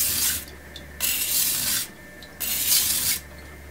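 Kitchen knife drawn over a coarse Suehiro Debado LD-21 whetstone, three long gritty rasping strokes in a slow rhythm with short pauses between them, close and clear with no talk.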